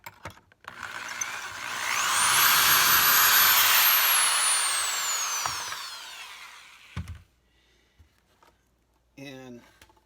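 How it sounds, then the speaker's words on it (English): A power drill running in a pocket hole jig whines up in pitch and holds a long, loud, rising-then-falling spin while boring a pocket hole into wood, followed by a few clicks and knocks. "I've got this little tool that allows you to drill pocket holes"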